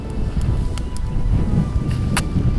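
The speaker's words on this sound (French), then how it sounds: "Un vent, pas possible." Strong wind buffets the microphone on a lakeshore while pike fishing in Ireland, a steady low rumbling roar with gusty swells and no voices over it.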